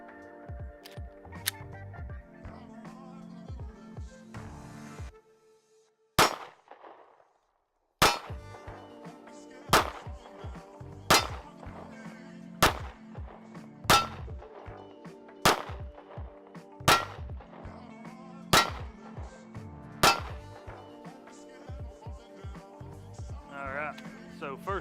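An HK VP9 SK compact pistol fires a 10-round magazine, with loud, sharp reports coming one at a time at a steady pace of roughly two seconds apart.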